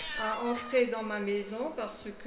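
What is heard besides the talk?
stray cat meowing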